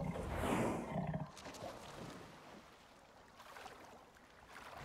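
An aggressive elephant in the survival game Icarus lets out a loud, harsh roar that peaks early and then trails off into a rumbling, noisy background.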